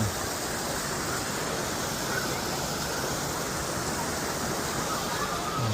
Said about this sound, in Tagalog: Pagdating dito, malakas na ang current niya.